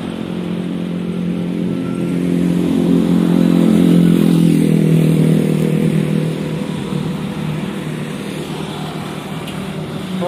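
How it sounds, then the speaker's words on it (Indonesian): A truck loaded with wood rumbles past on a road, its heavy engine drone swelling as it nears, peaking mid-way and then easing off, with clattering over a steady background of traffic. "Oke, truk bawa kayu"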